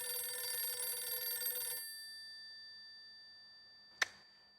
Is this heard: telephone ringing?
yes